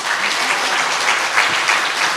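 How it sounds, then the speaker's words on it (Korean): A church congregation at a Sunday service applauds loudly, a dense, steady wash of many hands clapping that holds at full strength throughout, with no speech over it. "그 교회가 금천 반석 교회 맞으면 큰 소리로 박수 쳐요."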